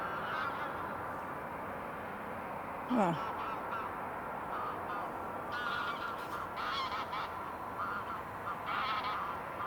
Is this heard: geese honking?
yes